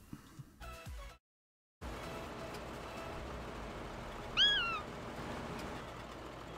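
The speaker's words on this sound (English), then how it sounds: "Somebody strangling a cat or something." A cat in a farming game lets out a single strained, strangled-sounding meow, rising then falling, over a steady rumble of engine and ambient noise after a brief silence.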